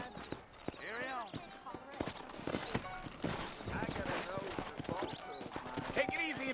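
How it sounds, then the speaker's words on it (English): Horse hooves clip-clop in a steady rhythm in the video game Red Dead Redemption while people talk over them, with a horse whinnying briefly in between. "It's horse time. Here, let's mount up and hit the trail."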